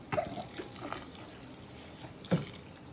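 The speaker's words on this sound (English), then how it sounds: "Now we need to put water in the broccoli." Water trickles and splashes quietly into a pot of broccoli in a home kitchen, with a couple of louder pouring splashes near the start and end.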